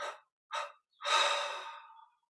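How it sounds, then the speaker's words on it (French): Two short sniffs followed by a long, deep breath drawn in through the nostrils, close and quiet, during a guided meditation. "on prend une inspiration profonde par les narines"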